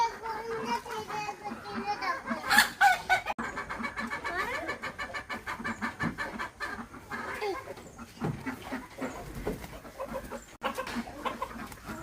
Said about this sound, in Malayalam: അപ്പോൾ നമ്മളെ കോഴിക്കളെ ഓരോരുത്തരെ തുറക്കുകയാണ്